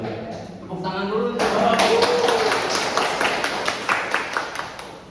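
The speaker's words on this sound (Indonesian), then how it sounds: "Tepuk tangan dulu." A classroom group claps during a micro-teaching lesson in Islamic cultural history, a fairly loud burst of many hands beating in a fast, uneven rhythm that gradually thins out, with a voice briefly heard at the start.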